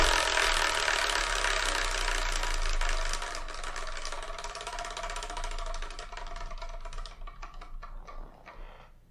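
A ratcheting selection wheel spins with a rapid run of clicks from its pawl, fast and dense at first, then gradually slowing and thinning out as it comes to rest, close and alone.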